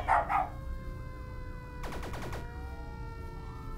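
A police car siren passes in the pet-themed video game Bark, a quick burst of rising and falling wails heard at moderate distance over a steady ambient game backdrop, with a brief dog-like yelp at the start.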